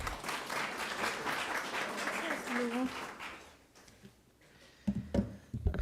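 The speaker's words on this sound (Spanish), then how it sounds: "Vamos a recibir con fuertes palmas" An audience at an academic law event gives applause in welcome, a steady wash of clapping that fades out after about three seconds, followed by silence and then the start of a voice speaking.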